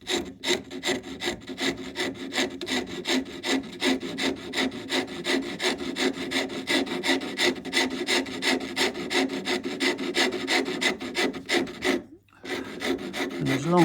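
A wood rasp shapes a guitar neck in steady, rhythmic back-and-forth strokes, loud and close, with a brief pause near the end before the rasping resumes.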